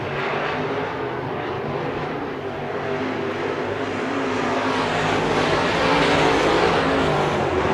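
Race cars lap Bakersfield Speedway during heat racing, a dense continuous engine roar that swells slightly as cars pass, loud and steady throughout with no pauses.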